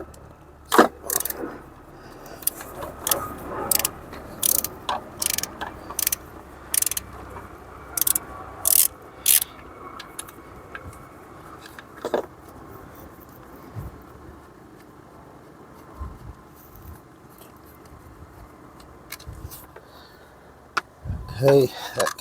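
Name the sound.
socket wrench undoing battery cable nut on Jaguar XF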